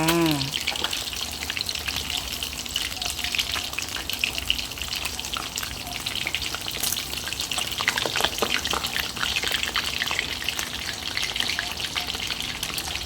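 Fish frying in hot oil for a Thai curry gives a continuous, dense crackling sizzle that holds steady throughout, close and even, with no talking.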